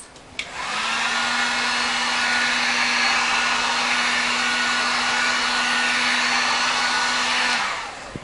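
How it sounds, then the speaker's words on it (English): A heat gun blows steadily over an acrylic paint pour on canvas, switching on with a rising whir and running as a loud, even airy roar with a low hum for about seven seconds before cutting off. "I'll put the heat gun on it and see what happens."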